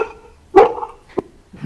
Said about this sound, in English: my dog was going nuts. Somebody just walked in the door